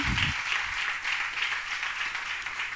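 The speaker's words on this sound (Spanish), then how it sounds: "Dele un aplauso a Cristo en esta noche" A church congregation applauds during an evening worship service, a steady, dense wash of clapping that carries through the whole stretch with no break, with a brief low rumble of voice at the very start.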